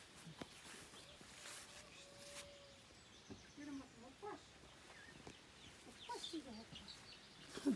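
A hen in a village garden clucks softly in short, scattered calls, fairly faint against a quiet outdoor background, with a person speaking nearby.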